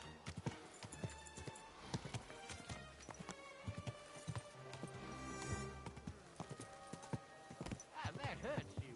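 Horse hooves clip-clop at a steady trot in Kingdom Come Deliverance 2, with a whinny breaking in, layered under game music and spoken dialogue.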